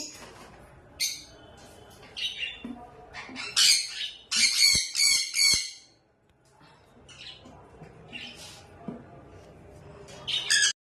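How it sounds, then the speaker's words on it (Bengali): A pet bird squawks in loud, harsh bursts, several clustered in the middle and more scattered toward the start and end, close to the listener with quiet gaps between calls. "আমার প্রিয় পাখি, আমার হলুদ।"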